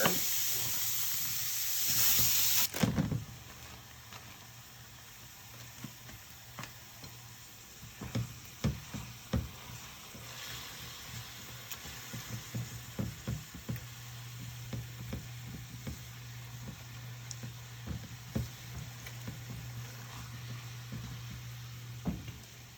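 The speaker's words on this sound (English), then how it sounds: "we're gonna let this meat cook. I'm gonna break it up with a fork." Ground meat for tacos sizzles steadily in a frying pan, with a loud burst of hissing early on, then a continuous fry broken by scattered knocks and scrapes as the meat is stirred and broken up; no one talks.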